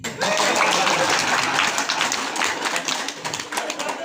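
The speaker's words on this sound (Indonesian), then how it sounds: "Tepuk tangan." An audience at an outdoor NU anniversary gathering applauds, a dense wash of clapping from a crowd that holds steady and then tapers, with some voices mixed in.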